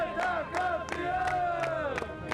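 Brazilian crowd and players celebrating a Paralympic five-a-side football gold medal, with loud rhythmic chanting and cheering in repeated bursts roughly every third of a second, close and energetic.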